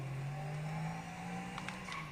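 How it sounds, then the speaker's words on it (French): Several cars driving past in the video game GTA V, a steady mid-level engine drone with a low hum and faint whooshes of passing vehicles, no talk. "vous voyez plein de voitures qui descendent"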